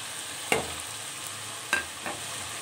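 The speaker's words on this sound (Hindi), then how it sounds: "अब मैं इसमें टमाटरों का पेस्ट ऐड करूँगी" Tomato paste and fried potatoes get stirred in a pan, with a few sharp scraping strokes over a soft, steady sizzle.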